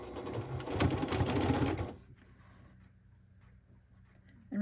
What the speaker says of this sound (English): And then we're going to sew that.